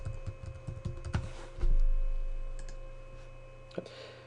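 Password keys tapped on a computer keyboard in an office setting: a quick run of light clicks, a louder thump, then a few isolated keystrokes over a faint steady hum.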